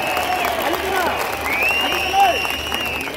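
A crowd at a farmers' movement state conference applauds to approve resolutions, a steady wash of clapping and murmuring voices with a speaker's voice sounding over it.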